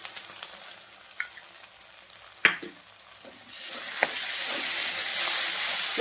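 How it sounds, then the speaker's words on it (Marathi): Ginger-garlic paste frying in oil with an onion-coriander paste for a Vidarbha-style spring onion mutthe curry. It sizzles steadily with a few sharp clinks of stirring, and the sizzle swells louder and denser halfway through. "लसूण आल्याची पेस्ट पण चांगली भाजायची, त्याचा उग्र वास गेला पाहिजे"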